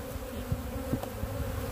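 Faint, continuous buzzing of honey bees at a bee farm with a low droning hum and occasional louder passes close by, no talking.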